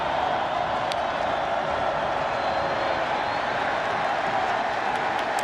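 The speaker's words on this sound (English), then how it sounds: "The crowd really for the first time today getting into it" Stadium crowd at a college football game, Florida State hosting NC State, roaring steadily as the home defense holds, a dense continuous wall of cheering with a few whistles over it, sustained and loud throughout.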